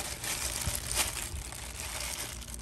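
Plastic bag crinkling and rustling around a wheel's lug nut while fitting a Takata Green TE37 wheel on a CRX, a steady close scratchy rustle with a few soft knocks, no talking.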